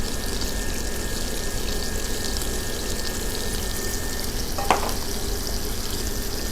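Food frying one side down in oil in a pan, a steady crackling sizzle throughout with one brief sharp clink near the end; no voices.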